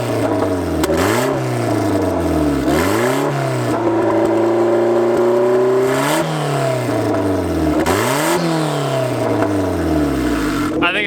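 A turbocharged Honda Civic engine revs hard in repeated sharp bursts, each climbing and dropping back, with popping from flames shooting out the exhaust, loud and close throughout.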